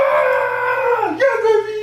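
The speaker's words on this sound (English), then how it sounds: "That's my dog!" A pet dog howls in one long, loud, drawn-out tone close by, wavering and dipping in pitch before rising again near the end.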